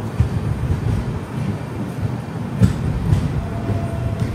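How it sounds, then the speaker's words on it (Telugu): The Kondaveedu Express pulls out of Markapur railway station after a delay, giving a low, steady rumble that stays faint and even throughout, with no talking. "33 minutes డిలే తోటి అయితే మన ట్రైన్ స్టార్ట్ అయిపోయింది ఇక్కడ నుంచి."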